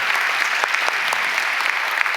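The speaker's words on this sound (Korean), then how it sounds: "우리 그분들에게 박수도 한번 쳐볼까요?" A church congregation claps in thanks, a loud, close, sustained burst of applause with sharp individual claps popping out of the steady wash, lasting about two seconds without speech.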